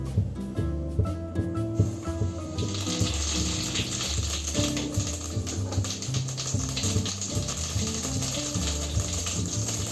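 Cumin seeds tipped into hot oil sizzle and crackle steadily at close range, a continuous frying hiss with small pops, no talking.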